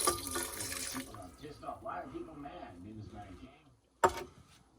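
Water from a tap runs steadily into a container during a cement-powder silver refining process involving nitric acid, a continuous splashing flow under faint background noise, ending with a sharp knock near the end.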